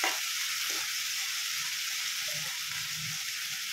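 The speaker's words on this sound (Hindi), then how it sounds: "देख सकते हो मैंने टमाटर को 1-2 मिनट ही फ्राई किया है।" Tomatoes frying with salt in a pan for mixed greens, a steady close sizzle that hisses continuously throughout with faint stirring underneath.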